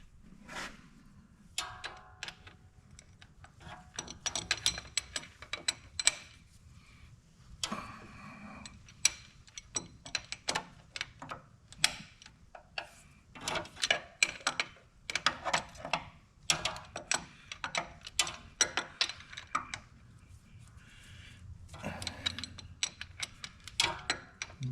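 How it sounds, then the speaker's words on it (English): A ratchet wrench clicking steadily while a David Brown 880 tractor is split apart, with short bursts of close, sharp ticks and brief pauses between strokes. "the ratchet is kind of difficult to get down in here"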